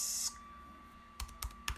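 Keystrokes on a computer keyboard while typing a short product description: an opening burst of quick clicks, a pause, then three separate key taps, close and fairly quiet against a faint steady hum.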